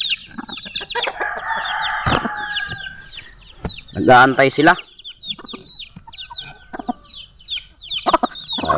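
Backyard chickens at a rural Philippine home cluck steadily while waiting to be fed corn, with a rooster crowing loudly partway through and someone talking over the flock nearby.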